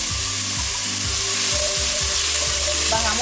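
Oil sizzles steadily in a pan while Cabeza de Gato, a Caribbean coast dish, fries, with a bright continuous hiss and rhythmic stirring scrapes up close.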